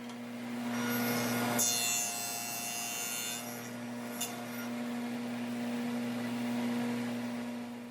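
A saw cutting pieces of wood on a box joint jig, a steady motor hum with a brief rasping cut through the wood near the start, then continuing to run.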